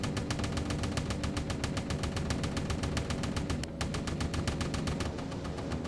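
Naval guns firing rapidly in the naval combat game Destroyer Command, a dense, steady stream of sharp shots forming a continuous rattling barrage with no talking.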